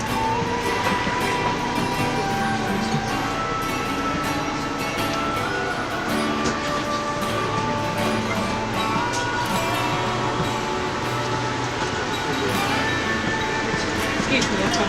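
A train at Manassas Station gives off a steady rumble and mechanical hum, loud and close throughout, with people talking nearby and a few sharp clicks.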